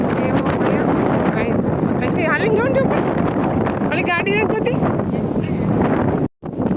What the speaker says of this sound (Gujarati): પવન છે ને બહુ જ અહીંયા